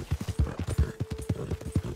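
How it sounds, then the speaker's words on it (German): Horse hooves clip-clopping in the video game Red Dead Redemption 2 as a rider moves along, a loud, close, steady rhythmic beat of hooffalls with a faint low tone behind. "So, da reiten wir mal lieber kurz nochmal drum herum."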